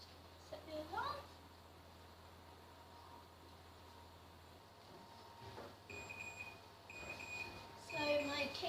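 A quiet kitchen room tone gives way to several short electronic oven timer beeps in a repeating pattern, faint and high-pitched, near the end, as cupcakes finish baking.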